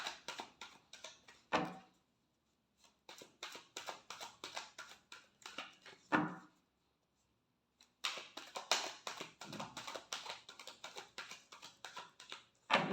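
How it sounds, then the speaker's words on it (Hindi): Tarot cards being shuffled, crisp papery riffles and taps coming in quick rapid bursts separated by short pauses, close and fairly quiet. "Last shuffle."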